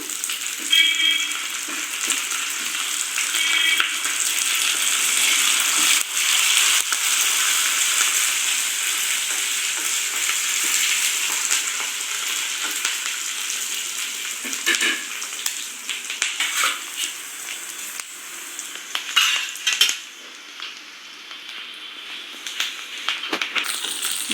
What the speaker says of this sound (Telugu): ఇప్పుడు మనం కరివేపాకు కూడా వేసేసుకుందాము